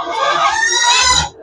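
Pigs grunting and squealing at feeding time on a backyard farm, a dense, loud, continuous chorus of harsh high squeals from several animals lasting about a second and a half, then cutting off abruptly.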